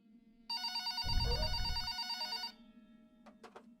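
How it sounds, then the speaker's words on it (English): A telephone rings in one long electronic burst lasting about two seconds as part of a scary story, with a low rumble underneath and a few faint short tones afterward. "About an hour later, the phone on the counter rang."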